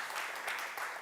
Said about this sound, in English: A little bit of applause for Peter.